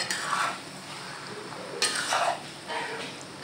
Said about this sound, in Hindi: इसको मैं प्रॉपर मिक्स कर लूँ।